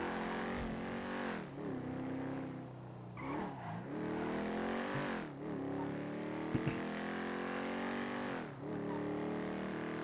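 Porsche in the GTA V NoPixel roleplay game, its engine droning steadily up close with repeated rev swells and dips as it drives, a couple of brief clicks partway through.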